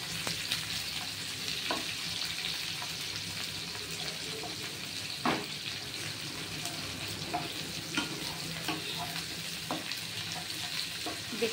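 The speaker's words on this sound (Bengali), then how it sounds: "পেঁয়াজ দিয়ে একটু নাড়াচাড়া করে, পেঁয়াজটা একটু সামান্য" Onions frying and being stirred in a hot wok for a pumpkin chhakka, a steady close sizzle with occasional scrapes and clicks of the spatula throughout, no talking.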